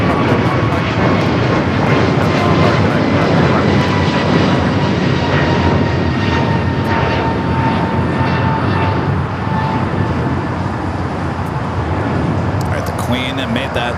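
American Airlines airliner taking off from runway 25 right at LAX, a loud sustained engine roar with a steady whine, close and continuous, while a radio voice talks underneath.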